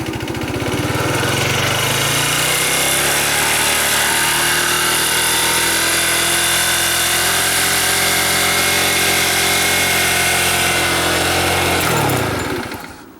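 A TaoTao ATM50-A1 moped scooter engine starts and revs up, droning loudly and steadily with a buzzy, rattling tone before cutting off abruptly at the end.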